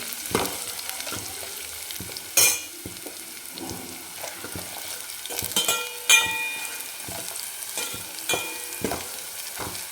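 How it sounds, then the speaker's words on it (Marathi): Homemade stored spice masala frying in a pan for a mutton dish, a soft continuous sizzle with repeated clinks and scrapes of a spoon stirring, one sharper knock partway through, and no talking. "एक घरगुती जो मसाला आहे तो टाकते मी साठवणुकीचा असतो तो दीड चमचा आणि त्याला पण चांगलं तळून घेऊ आपण"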